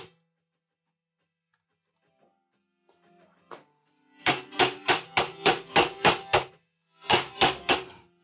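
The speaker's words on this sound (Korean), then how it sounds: "백패널 뺄 때는 뭐 망치 같은 거로 이렇게 때려주시면 돼요" A hammer strikes the metal back panel of a Samsung slim desktop PC in a quick run of sharp, loud taps, then a brief pause and a few more blows, near and with no talking.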